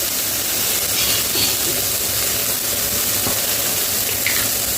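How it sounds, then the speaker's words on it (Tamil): Carrot and beans frying in oil in a pan for bitter gourd kuzhambu give a steady, dense sizzle that stays even and close throughout, with no talking. "கொஞ்ச நேரம் வதங்கட்டும்."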